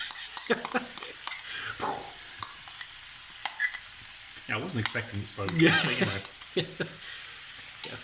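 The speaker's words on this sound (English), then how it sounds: "Let's get this frying" Buldak fire sauce sizzles and crackles steadily in a pan while people talk over it, with scattered clinks and stirring sounds throughout.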